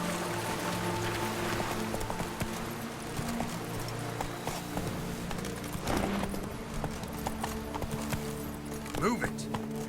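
Horse hooves clip-clopping at a steady walking rhythm in The Witcher 3: Wild Hunt, Blood and Wine, with game ambience and occasional snorts underneath, fairly close and continuous.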